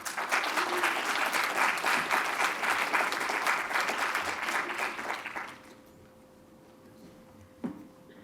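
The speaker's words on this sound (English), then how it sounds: "special round of applause" Loud applause from an audience fills the room for about five seconds, then fades quickly into quiet room tone.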